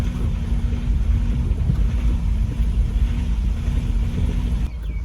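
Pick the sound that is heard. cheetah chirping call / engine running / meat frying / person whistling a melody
engine running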